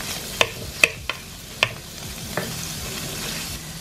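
Lobster seasoned with Old Bay frying in an oiled pan, a continuous crackling sizzle punctuated by a few sharp pops and clicks of utensils, close and fairly loud with no voices.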